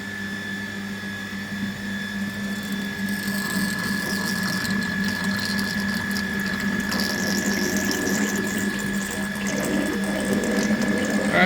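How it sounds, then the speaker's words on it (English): Water pump starting on a DIY wire EDM machine, draining the tank into a dirty water tank, giving a steady mechanical hum with a tonal whine, rising gurgling water and ratcheting clatter throughout. "As you can hear, the pump is now starting."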